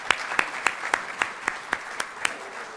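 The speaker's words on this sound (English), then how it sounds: "we'll give you some applause" A church congregation gives a short round of applause for newcomers during a livestreamed service, heard as a slow, evenly spaced series of about ten distinct claps, close and moderately loud, with no talk over them.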